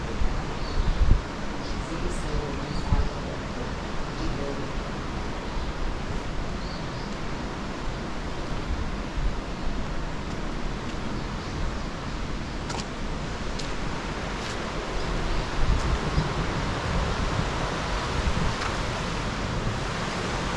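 Water rushing over Hwy Falls along North Carolina's Scenic Byway 64 makes a steady, broad roar that holds at an even level throughout, with no voices over it.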